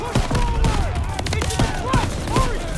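Call of Duty WWII D-Day battle gunfire: rapid, loud overlapping enemy shots and bursts in several volleys, with whizzing rounds and voices mixed in.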